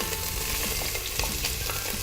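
Onion frying in a pan, giving a dense, loud, continuous sizzle with small crackling pops and a faint stirring scrape, no voices over it.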